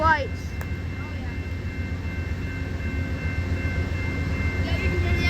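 An Amtrak train idles at a station, a low steady diesel rumble continuing throughout, with a brief higher whine at the start.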